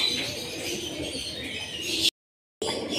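A flock of kept birds, likely pigeons, coos and chirps close by in a steady busy chorus, cut by a brief gap of silence before the calls resume.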